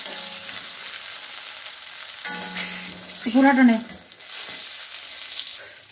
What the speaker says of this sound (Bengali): তো এই দেখো আমার বেগুন ভাজা হয়ে গেছে